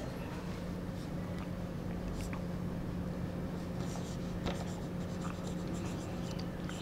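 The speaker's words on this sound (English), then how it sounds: "Now I will write the sentences." Sentences are handwritten during a first-grade lesson, with soft, steady scratching strokes running continuously under a faint background hum.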